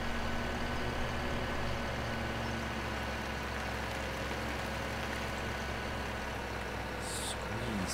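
Steady low tractor engine drone in Farming Simulator on the Upton Farm map, pushing a stack of bales into the yard, running continuously and evenly throughout with a brief brighter hiss near the end.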